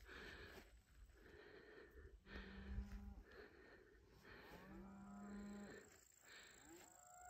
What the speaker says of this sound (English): There's some cows mooing.